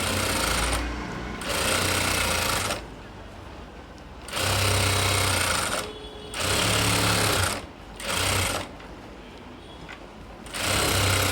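Sewing machine stitching the lining sleeve of a blouse, running in loud close bursts of steady rapid stitching that stop and start several times, with brief quieter pauses in between.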